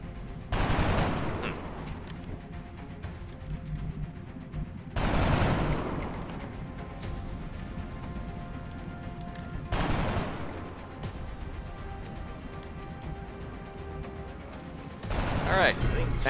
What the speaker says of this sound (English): We're gonna take another high ground shot with Epicol.